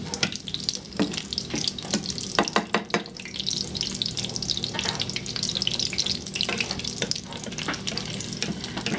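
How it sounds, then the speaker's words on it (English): A Filipino turkey torta fries in a pan, browning to golden, with a continuous close hiss of oil and occasional sharper crackles and utensil knocks throughout. "fry until it's a nice golden brown. I like my torta pretty well done"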